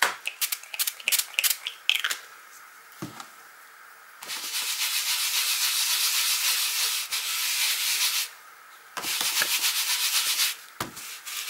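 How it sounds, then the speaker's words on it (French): A rubber stamp is rubbed on a Stamping Scrub pad, giving close scratchy scrubbing strokes in two long sustained runs, with quicker short scrapes and taps at the start and in between. "Je vais utiliser un Stamping Scrub pour nettoyer aussi mon tampon."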